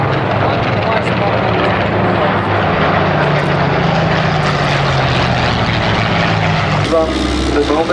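A vintage propeller aircraft with a nose engine and two contra-rotating propellers flies past at an air show in a loud, continuous engine drone that shifts slightly in pitch near the end.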